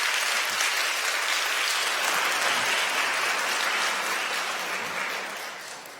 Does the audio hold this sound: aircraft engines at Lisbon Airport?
no